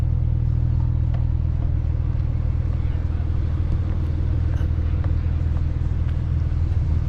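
Porsche GT3 sports car at a Porsche marque day car show, its engine a steady, loud, low rumble that holds throughout without a clear rise or fade, with voices faintly mixed into the background.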